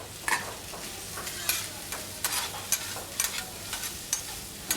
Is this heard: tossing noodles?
yes